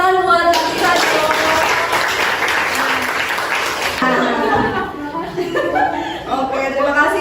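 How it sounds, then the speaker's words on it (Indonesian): A classroom audience at a school arts session claps in a dense burst of applause lasting several seconds, with chuckles and a teacher's voice speaking over and after it. "Tepuk tangan buat kita dong"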